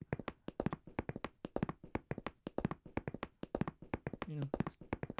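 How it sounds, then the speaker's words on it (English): Foley tap-dancing footsteps for an audio drama: rapid, crisp taps in a dense, uneven rhythm, close and dry, with a voice-like tone in the middle. "awful tap dancing footsteps"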